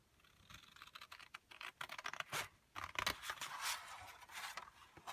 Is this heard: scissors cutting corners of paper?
yes